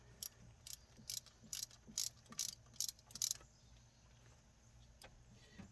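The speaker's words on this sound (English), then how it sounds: "I'm going to use a 15 millimeter deep well socket. Little ratchet." A small ratchet with a 15 mm deep well socket turns bolts on a 2004 Dodge Ram 1500, giving about eight quick, crisp clicking bursts close by, then quiet.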